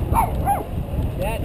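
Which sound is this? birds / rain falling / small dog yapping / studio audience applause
small dog yapping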